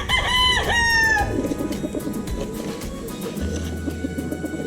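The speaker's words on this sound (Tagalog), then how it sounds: "enjoy muna kayo sa panonood ng mga game fowls" Gamefowl chickens, including yellow-legged hatch birds, crow loudly and up close in a long drawn call, followed by scattered clucking and steady low background noise.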